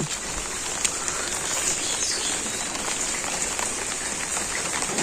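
Steady rain patters on a surface throughout, dense and even, with no talking.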